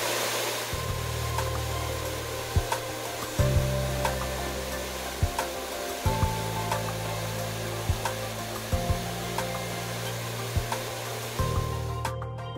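A hair dryer blows steadily on hair after a swim, its airflow cutting in and out repeatedly with small clicks and shifts as it is moved around, heard close without speech.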